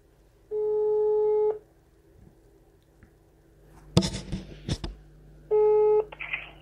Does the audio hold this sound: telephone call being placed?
yes